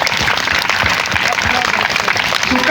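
Audience at a Hindu devotional katha recital claps loudly, a thick, close burst of applause with voices mingled in.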